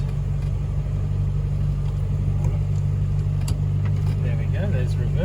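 The engine of a Rover P4 runs at a steady, close, low idle with its choke on while the car is put into reverse, and a voice speaks briefly toward the end.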